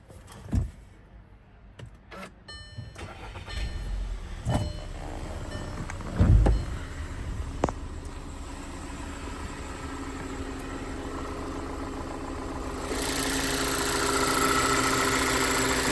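A 2016 Volkswagen Tiguan engine is started after a few clicks and a brief whir, then settles into a steady low idle that continues to the end.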